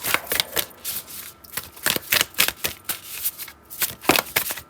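Tarot cards riffle and slap in quick repeated bursts, a crisp papery flutter recurring about every half second, close and fairly loud with no voices.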